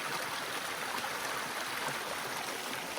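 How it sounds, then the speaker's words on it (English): Water from a small cascade tumbles beside a large rock on a clear Ozark mountain stream, a steady broadband rush that stays close and constant with no talking. "there's some little baby falls right here next to the big rock"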